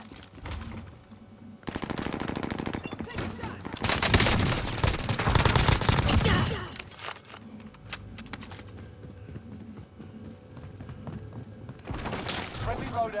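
Machine guns rattle in rapid automatic bursts during a Call of Duty: Modern Warfare match, loud close bursts alternating with quieter gaps, fainter distant fire and game voice callouts.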